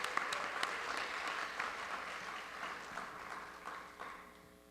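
Audience applause at a school awards ceremony, a dense wash of many hands clapping steadily at moderate distance, with a few sharper claps standing out before it thins and fades toward the end.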